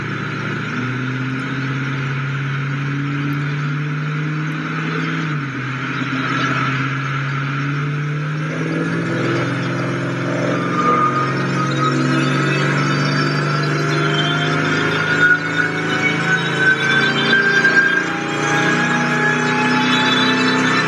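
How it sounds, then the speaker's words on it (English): Jaguar XKR RSR engine running on a dyno, a steady mid-pitched drone that climbs gradually in pitch across the pull, sustained and fairly loud with no talk. "here we can see one of the dyno runs that Luca has got on film"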